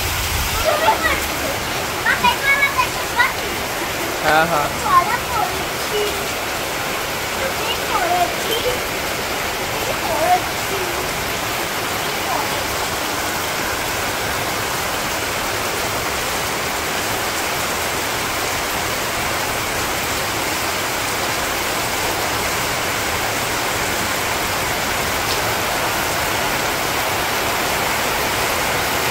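Heavy rain pours down steadily in a dense, continuous roar, with a few brief spoken words early on.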